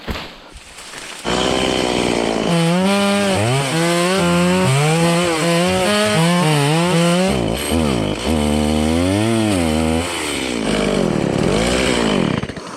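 After a brief quiet start, a chainsaw roars up close, its engine whine wavering in pitch as it works through wood, with short dips between revs, until it runs out of gas.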